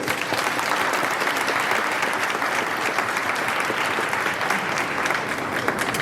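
Steady applause from an audience at a celebration commemorating the Asanteman war, dense and even clapping sustained throughout at a fairly close distance.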